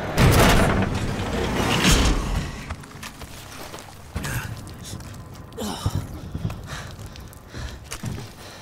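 Battlefield Hardline game explosion: a loud, broad boom opens the scene and rumbles off over about two seconds, followed by scattered thuds, mechanical clunks and footsteps at a lower level.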